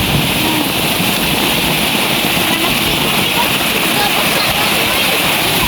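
Muddy brown water flows in a steady, loud, broadband rush that stays unbroken throughout, with some wind-like roar mixed in and no clear voices.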